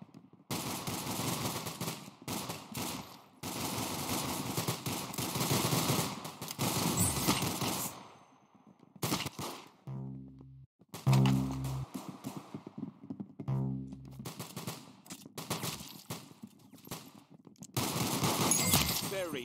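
Rapid gunfire from the video game Arsenal rattles in long, loud automatic bursts, broken by brief pauses and a few heavy, distinct thuds in the middle.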